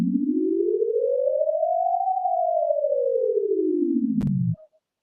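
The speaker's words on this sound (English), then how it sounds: "just like the shape itself, the sound is literally rising and falling" A sonified triangle shape rendered as one clean synthetic tone that glides steadily up in pitch, peaks midway, then slides back down, with a brief click near the end before it cuts off.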